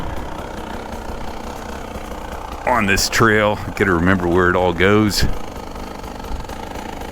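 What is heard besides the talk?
Beta 300 Race Edition two-stroke dirt bike engine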